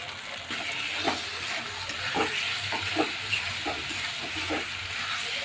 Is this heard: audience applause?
no